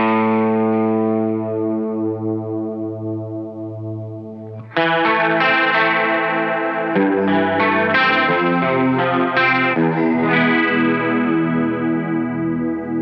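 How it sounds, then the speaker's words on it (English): Sustained electric guitar chords through a digital whammy pedal set for a shimmering, chorus-like doubled pitch effect, ringing out alone and changing chords a few times, loud and close. "you can actually mimic like a chorusy type of sound"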